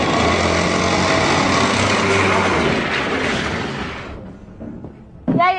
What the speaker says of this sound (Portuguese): o motor tá rajando